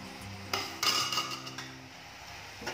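Fenugreek leaves tossed into a pan of potato curry and stirred, with a metal spoon clinking and scraping against the pan in a few sharp knocks, near and fairly quiet, with no talking.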